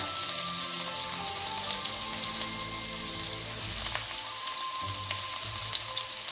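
Garlic and ginger fry in a hot pan for a prawn stir-fry, giving a steady, close, dense sizzle that crackles on without a break and with no voices.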